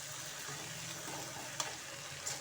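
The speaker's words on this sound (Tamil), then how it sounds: "நல்லா இதையும் பச்சை பயிரையும் நல்லா கலந்து விட்டுக்கலாம்." Green moong sprouts are stirred in a hot pan, giving a quiet, soft sizzle with faint scraping and a couple of small clicks from the spoon against the pan, heard close and alone.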